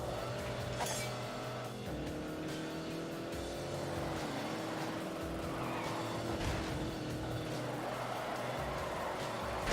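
Race car engine held at full throttle in The Grand Tour video game, a loud sustained drone rising and shifting in pitch through a bend, close and continuous, with a voice briefly speaking over it.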